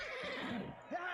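A horse whinnies in a medieval combat video game, a short, faint whinny with rising and falling pitch, heard twice over quiet game ambience.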